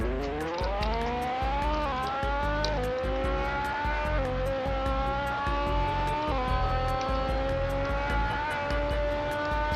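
A car engine in the game Realistic Car Driving revs repeatedly, climbing through short gear ratios with pitch rising and dropping at each shift, loud and continuous with no talking.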